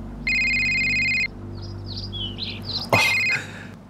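A mobile phone ringtone plays a bright repeating electronic tone, breaks off into a few chirpy melodic notes, then rings once more briefly, close and fairly loud.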